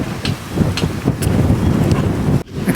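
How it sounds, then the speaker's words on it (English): Strong wind buffeting the microphone outdoors on a farm among olive trees, a loud steady roaring rush with gusty low rumbles, broken by a brief dip near the end. "It's very windy"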